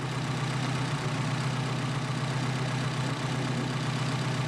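A Mercedes 190SL engine fitted with Solex PHH44 carburetors idles low and steady, giving a loud, continuous, even rumble close by with no one talking.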